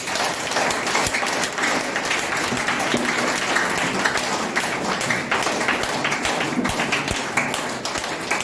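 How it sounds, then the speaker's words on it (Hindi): A large audience at a business meeting gives a sustained round of strong, even applause with dense overlapping claps that hold at a constant level throughout. "आपकी जबरदस्त तालियों के बीच में।"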